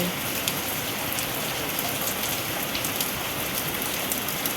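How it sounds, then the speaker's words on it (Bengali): Heavy rain pouring down outside a shop, a dense, steady hiss of drops hammering the ground and surfaces, constant and loud throughout with no voices. "এরকম অঝোরে বৃষ্টি শুরু অঝোরে দেখো কত বৃষ্টি হচ্ছে"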